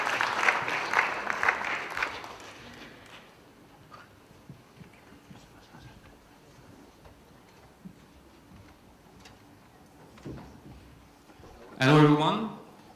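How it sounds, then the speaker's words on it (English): An audience claps for a hackathon team on stage, a short burst of applause fading in the first two seconds, then quiet room sounds and a brief loud noise near the end. "Can you please give them a big round of applause?"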